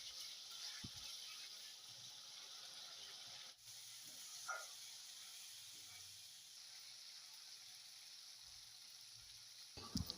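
Fish head frying with salt and turmeric in a pan, a faint steady sizzle and hiss running throughout with a few small clinks and stirring sounds, no talk.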